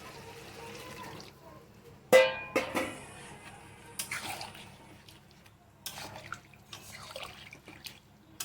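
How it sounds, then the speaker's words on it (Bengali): Water is poured into a pot of potatoes for a curry, giving faint splashes and trickles with a few sharper clinks, quiet and intermittent against a low room hum. "এবার আমি জলটা দিয়ে দেবো।"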